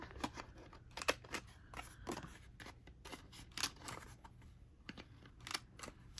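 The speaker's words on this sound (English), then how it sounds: "cut the edges here" Scissors snipping the edges of paper for a spooky pinup-girl junk journal, a run of quiet, close, crisp cuts in irregular bursts, with no talking.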